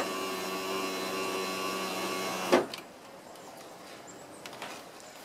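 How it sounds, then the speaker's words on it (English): A window regulator motor whines steadily as it runs a 2000-2006 Chevy Silverado driver's door window down to the bottom, then stops with a clunk, leaving faint room noise and small handling sounds. "we'll go ahead and run that controller all the way to the bottom"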